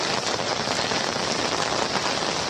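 Downpour in Kalyan beats hard on an umbrella held overhead, a loud, unbroken hiss of close drops without pauses or speech.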